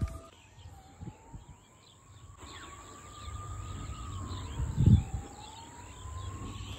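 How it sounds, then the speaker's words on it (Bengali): A distant emergency siren, either an ambulance or a fire engine, wails in slow rising and falling sweeps over outdoor ambience with birdsong and a brief nearby thump. "একটা অ্যাম্বুলেন্স না ফায়ার ব্রিগেডের আগুনের গাড়ি জানি শব্দ হয়েছে"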